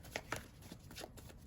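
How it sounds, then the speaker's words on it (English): A deck of tarot cards is shuffled close up, soft, quiet riffling and shuffling with several brief flicks in an irregular rhythm. "I don't know why I keep shuffling this"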